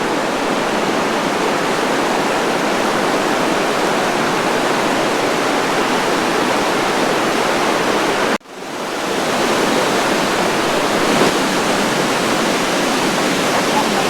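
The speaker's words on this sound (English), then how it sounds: "So these lower falls have several areas of waterfalls to check out." A loud, steady roar of a lower waterfall fills the scene continuously, briefly dipping once before the rushing wash resumes at full strength.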